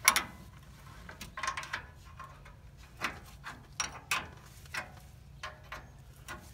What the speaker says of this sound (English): we're gonna take the brake line out using a 3/8 and a